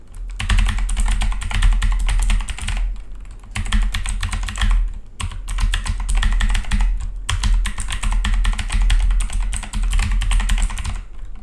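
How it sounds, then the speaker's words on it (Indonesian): Fast typing on an Imperium Mesh 10 mechanical keyboard with blue switches, loud crisp clicks in dense close-up bursts separated by brief pauses. "kita try typing test tengok guna mechanical keyboard daripada Imperium. Imperium Mesh 10 Blue Switch."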